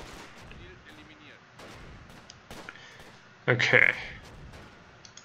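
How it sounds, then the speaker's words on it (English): Shelling in the video game Close Combat: a single loud artillery-type blast bursts out about two-thirds of the way through, over quieter battle ambience with brief speech. "Yeah, they're shelling us pretty good now."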